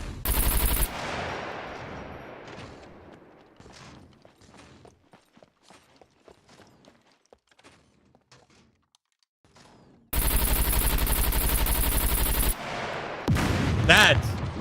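Soldiers firing in the survival game Scum: a sharp opening burst, then scattered distant cracks, then a loud sustained volley of rapid fire and another heavy burst at the end.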